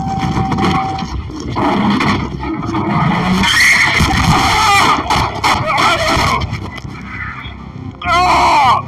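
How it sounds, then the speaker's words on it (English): A car lurching suddenly backward during a police traffic stop, tires skidding and squealing loudly and close by, with shouting and voices over the engine noise throughout. "The officer was trapped and injured as the car lurched backward."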